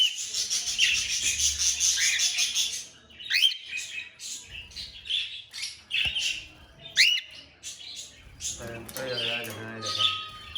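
Shrill squawks and rapid chirps from a small parrot, close and loud, coming in dense bursts with short gaps between them.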